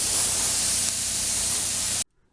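A paint spray gun laying clear coat on a car panel releases a loud, steady airy hiss for about two seconds before cutting off abruptly into silence.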